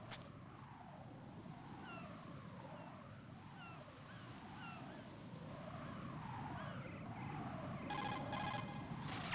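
A cell phone rings in Metal Gear Solid 2: Sons of Liberty, a repeating warbling ring tone over ocean surf and low game ambience, with no talk.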